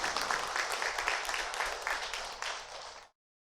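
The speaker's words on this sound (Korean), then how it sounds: "박수 한번 해주시면 감사하겠습니다." A church congregation gives a short round of applause during a Sunday service, a steady patter of clapping hands at moderate volume that stops abruptly after about three seconds.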